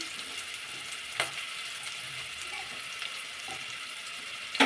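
Onions frying with mustard seeds in a pan for ragi soup, a soft continuous sizzle with occasional sharp pops and a light scrape of stirring, fairly quiet and close, no talking.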